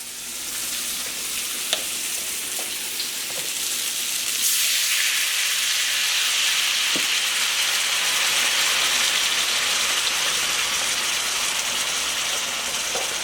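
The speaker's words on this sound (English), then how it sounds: "now that we're at the bubbly part, we're going to add our vegetable stock" Vegetable stock is poured into a bubbling pan for cauliflower steak, and a steady loud sizzle and hiss rises and keeps going, with a few small clinks early on.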